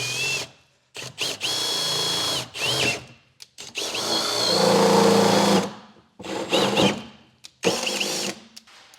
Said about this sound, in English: now I'll drill the rest of the way through the top